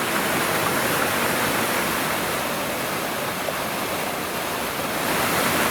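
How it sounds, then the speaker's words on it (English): A Dartmoor waterfall roars as a constant, dense rushing wash of water, close and loud, holding steady throughout with no other sounds. "Everyone loves a waterfall."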